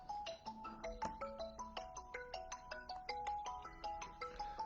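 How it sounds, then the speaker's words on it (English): A phone ringtone for an incoming call plays a quick, repeating melodic pattern of bright notes, faint but steady and heard alone with no talk. "I've got a phone call coming out."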